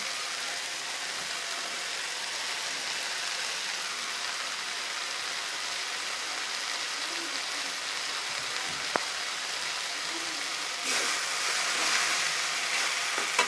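Fried fish pieces going into a pan of sizzling eggplant curry, a steady broadband frying hiss throughout with a brief sharp clink near the end and a slightly louder sizzle in the last seconds.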